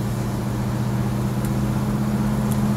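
A 1964 Pontiac Grand Prix driving along, its engine holding a steady, continuous low drone with strong low harmonics, no clear shift break audible, close and fairly loud.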